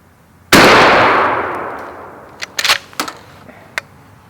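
A single loud shotgun shot fired at a target 20 yards away, a sharp close blast with a long decaying tail, followed by a few small clicks and knocks.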